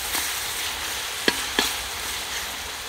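Chopped vegetables for mutton fried rice fry in a hot pan with a steady, close broadband sizzle, broken by two sharp utensil clinks just past the midpoint.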